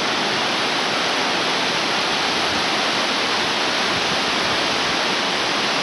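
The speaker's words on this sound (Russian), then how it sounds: "Тропинка вдоль горной реки." A wild mountain river rushes beside a rocky path in Otkhara, Abkhazia, a loud continuous roar of churning water with no break and no voices.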